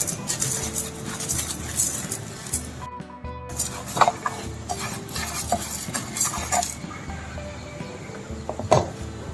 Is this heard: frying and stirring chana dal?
yes